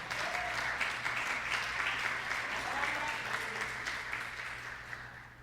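A church congregation claps together in a sustained, dense round of applause that fills the room and fades a little at the end, with a low steady hum underneath.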